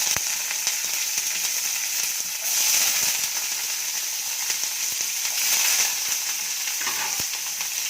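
Curry leaves and finely chopped onions fry in hot oil for a Telugu chikkudu kayi palya, giving a steady, loud, close sizzle throughout, with two brief surges of stronger hissing as the pieces hit the oil.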